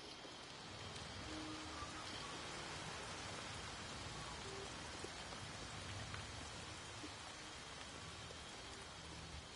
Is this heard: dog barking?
no